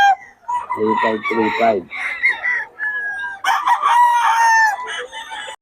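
Chickens cluck and a rooster crows at a large farm, with several crows and clucks overlapping, loud and close, while someone speaks over them.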